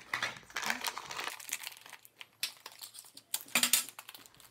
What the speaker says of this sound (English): You'll just take these ends, crumple them in, and tape them down.